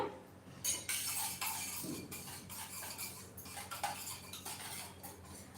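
A utensil stirs chopped coriander and salt in a bowl, giving close scraping and clinking strokes in irregular bursts with short pauses between them.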